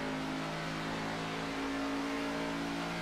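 Race cars circle a banked oval track at sunset on championship night, a steady loud roar of engines droning without a break, heard from a distance with no voices.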